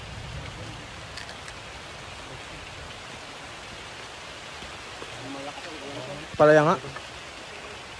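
Steady light rain falls over a farm in the Philippines as it begins to ease, a soft even hiss throughout, with a person speaking briefly and loudly near the end.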